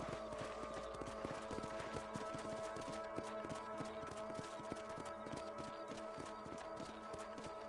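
Steady, rhythmic hoofbeats clip-clop at a brisk pace, several horses moving together in a video game over a constant backdrop of ambient game sound.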